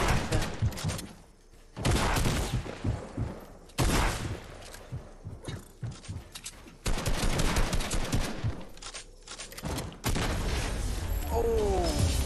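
Fortnite gunfire in bursts of rapid shots and booms separated by brief lulls, loud and close, continuing steadily toward the end.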